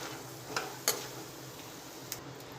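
Peanuts roasting in hot oil in a pan: a soft, steady sizzle with a few faint ticks and small pops, quiet and alone.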